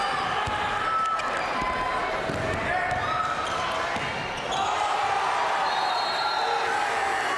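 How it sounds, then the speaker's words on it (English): Home crowd at a 1992 Lake Orion at Rochester high school basketball game cheers after a blocked shot, a broad, steady roar with sneaker squeaks and bounces, while a commentator talks over it. "the Lake Orion crowd gets excited on that one"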